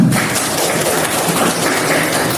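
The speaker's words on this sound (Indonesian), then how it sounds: "Tepuk tangan dulu untuk Wela." A classroom of students gives a round of applause for a classmate, a dense continuous wash of clapping, fairly loud and steady with no talk over it.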